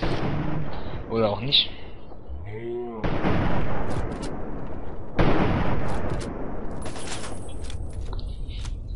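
Heavy gunfire and blasts in Fallout 3, with two loud broadband bursts that each ring out and decay after someone speaks briefly in German at the start.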